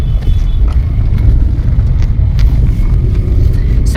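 Busy street traffic with cars and auto-rickshaws, a steady low rumble of engines and road noise with wind buffeting throughout, no voices.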